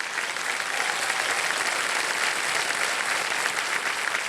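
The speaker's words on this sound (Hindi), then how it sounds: "एक बार तालियां बज जाए उनके लिए" Steady, dense studio audience applause fills the stretch on a Hindi TV quiz show set, loud and continuous with no break, and no voices talking over it.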